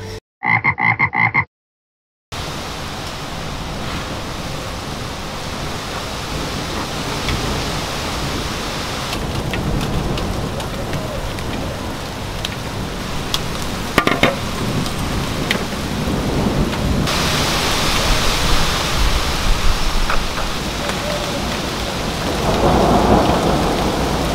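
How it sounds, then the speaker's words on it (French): Dense, steady pattering of falling hail on a balcony fills the scene, a constant hiss that grows heavier in surges, with occasional sharper impacts close by. "je croyais que c'était de la pluie, mais non en fait on a une tempête de grêle quoi"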